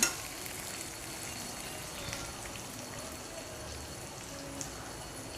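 Tomatoes sautéing in a pan for sambar, a steady soft sizzle and crackle that runs evenly throughout without pause, close and moderately quiet.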